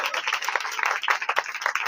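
A church congregation claps during a Christmas sermon, producing a short burst of steady, moderately loud, slightly uneven clapping with no voices over it.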